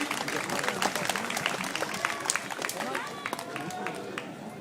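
Outdoor audience at a motorcycle gathering clapping for a rider, a busy scatter of claps mixed with crowd chatter and voices, fading slightly toward the end.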